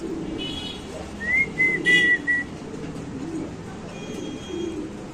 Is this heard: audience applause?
no